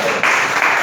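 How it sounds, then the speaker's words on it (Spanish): Church congregation applauding the Lord during a Spanish-language service, a short, dense burst of many hands clapping together, loud and close, with a brief voice mixed in. "Dale un aplauso al Señor"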